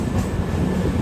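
Passenger train 220018 at Newcastle station, a loud close rumble of rolling stock with low-pitched wheel noise sustained across a brief moment, no voices.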